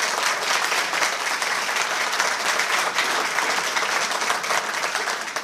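Audience at a November chamber of commerce lunch applauding steadily for about five seconds, a dense even wash of clapping that holds level and tapers slightly at the end.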